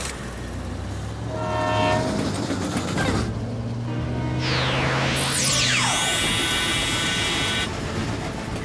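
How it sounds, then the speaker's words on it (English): A cartoon train from PAW Patrol rolls along with a rumbling run and a long sounding horn, then bright sweeping whistle-like tones, loud and close, with no talk over it. "But we'll have to stop the train first."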